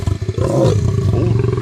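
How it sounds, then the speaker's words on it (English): A big lion gives a loud, close, rumbling roar that holds steady for under two seconds with no talking over it. "Big lions like making these oh no no noises."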